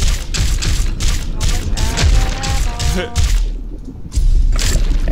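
Rapid bursts of Gatling gun fire ring out in the PC game Shark Attack 2, dense repeated shots in quick volleys with a short lull near the end, loud and close, alongside game effects.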